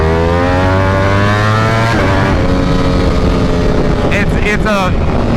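A Ducati V4 SP motorcycle with a 1103 cc engine revs hard on a dyno, a loud, dense, high-pitched engine wail that climbs, drops and rises again, with a voice talking over it.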